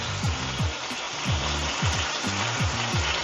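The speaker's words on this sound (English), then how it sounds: "we want to sear it on all sides" Pork loin sears fat side down in a hot pan, giving a steady, close sizzle with faint low rhythmic thumps underneath.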